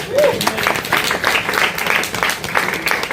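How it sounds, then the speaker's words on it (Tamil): A church congregation applauds, steady clapping filling the room for a few seconds, with a voice briefly heard at the start. "அவருக்கு ஒரு நல்ல கைத்தட்டு கொடுப்போம்."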